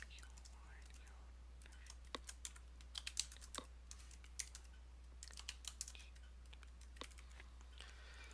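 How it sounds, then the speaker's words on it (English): Quiet keyboard typing, soft irregular key clicks in short bursts with pauses, close and faint over a low steady hum. "let me start typing it in."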